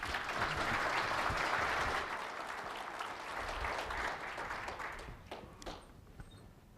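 Warm audience applause welcomes lecturer Dr. Brad White to a talk on DNA in fish and wildlife management, a steady clapping swell from a room full of listeners that gradually thins out and fades to a few scattered claps.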